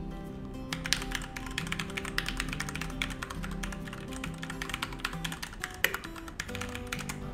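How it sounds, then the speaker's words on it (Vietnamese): Rapid typing on a Blipwood KB1 mechanical keyboard fitted with thin keycaps: dense, continuous clicks and taps at close range, steady and unbroken with a brief lull near the end, no voices. "Cho các bạn nghe thử luôn cái tiếng keycap mỏng thì nó như thế nào."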